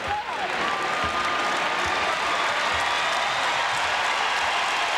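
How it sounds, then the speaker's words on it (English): A basketball arena crowd at an Indiana versus Michigan game rises in a standing ovation, steady loud applause and cheering filling the space without letup, with no distinct voices standing out. "they're on their feet in appreciation now for the final 20 seconds"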